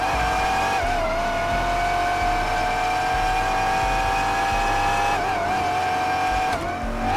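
A 2025 Chevrolet Corvette C8 ZR1 Yenko with the CTK package accelerates hard, its loud engine note holding steady and close, climbing through gears with brief dips at shifts across the whole stretch.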